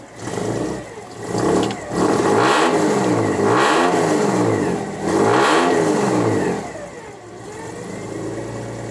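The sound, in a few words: Ford Bronco engine starting and revving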